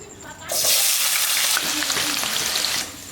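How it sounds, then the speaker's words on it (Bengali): Loud hiss of potatoes dropping into hot oil, a quieter background at first, then steady bubbling sizzle with faint stirring clinks throughout, for restaurant-style mixed veg. "তেল গরম হয়ে গেছে এবার আলুগুলো নিয়ে ভাজ্য নেব"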